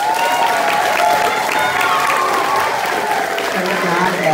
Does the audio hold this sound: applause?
yes